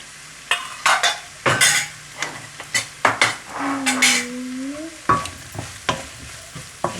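Cooked ground meat sizzles in a hot pan for Asian-style fried rice while a utensil stirs and knocks against the metal in quick, uneven strokes, close and fairly loud, with a brief squeaky tone midway and no speech.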